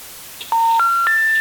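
Three successive DTMF keypad tones on a private phone line, each a steady electronic beep held for a moment, stepping upward in pitch one after another with no talking.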